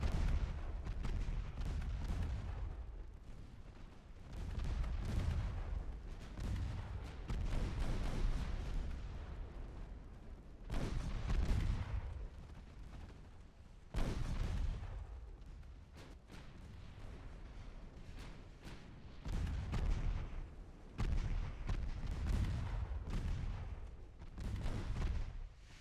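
Heavy naval guns in the warship battle game Ultimate Admiral Dreadnoughts boom repeatedly, deep muffled blasts every few seconds with rumbling tails, some volleys overlapping, no voices.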